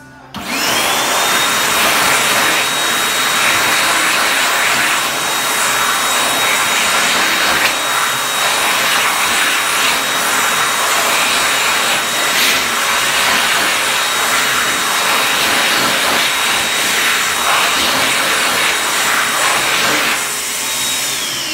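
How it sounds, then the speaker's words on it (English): A jet hand dryer in Australia runs loud and steady at close range for about twenty seconds, a constant roaring blast of air with a thin high whine on top. "Today we have a jet dryer echo, as you can see."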